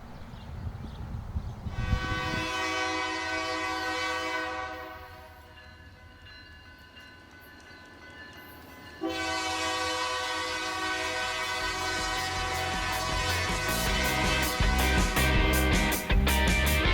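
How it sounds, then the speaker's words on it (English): A Missouri & Northern Arkansas Railroad train creeps into town, its horn blowing in long sustained blasts with a quieter gap between them, over a low rumble of the engine that grows louder toward the end. "The train pokes out of the trees as it creeps into town."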